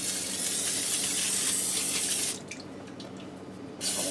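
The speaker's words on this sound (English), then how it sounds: "now I'm going to go ahead and spray the other side." A steady aerosol hiss of cooking oil spray runs for over two seconds, stops briefly, then starts again in a short burst.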